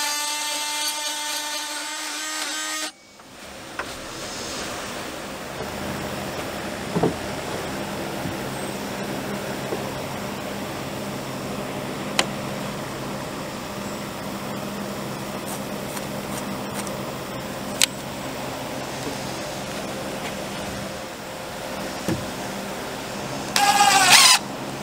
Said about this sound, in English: We love the oscillating tool.